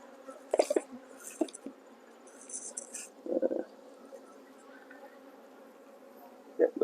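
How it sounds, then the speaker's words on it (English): Honey bees buzzing around an opened hive colony during midsummer management, a faint steady drone with a few louder close passes and light bumps, no talk. "Rest of the bees back in the colony."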